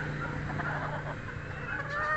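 Breeding hens in a backyard coop clucking nearby, a short run of soft repeated clucks and murmurs over a low steady background.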